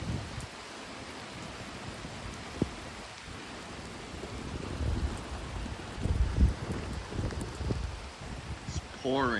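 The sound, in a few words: heavy rain pouring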